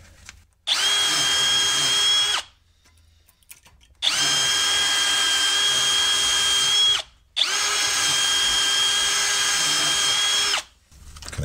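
An electric drill whirs loudly in three long bursts of a few seconds each, with brief pauses of quiet between them, during a front suspension rebuild on a Ford Excursion with 2WD twin I-beam suspension.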